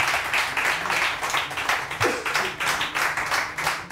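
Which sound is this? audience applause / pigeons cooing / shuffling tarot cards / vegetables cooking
audience applause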